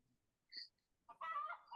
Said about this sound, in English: My chicken is just squawking too much.